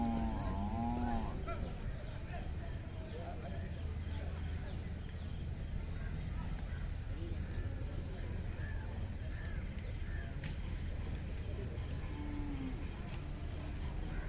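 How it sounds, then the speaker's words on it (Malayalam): At an open cattle market in Manjeri, Kerala, milking cows brought from Tamil Nadu low a few times, faint and somewhat distant, over a constant murmur of crowd noise and general bustle. "നമുക്ക് പശുവാണ്, കറവൊക്കെ പറ്റിയ പശുക്കളാണ്, ഏകദേശം പ്രായം ചെന്ന പശുക്കളാണ്."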